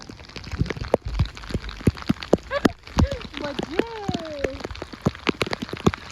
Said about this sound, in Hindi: बारिश उधर से आ रही है, देखो वो देखो।